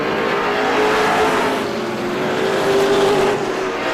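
Race cars at Star Speedway roaring steadily down the backstretch during a 100-lap oval event, a loud, continuous engine drone with no talk over it.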